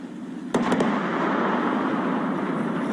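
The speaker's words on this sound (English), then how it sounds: "Twin sonic booms." A returning Falcon 9 first stage sends down a pair of sharp, distant booms in quick succession, then a couple of softer thumps, all over steady roaring background noise.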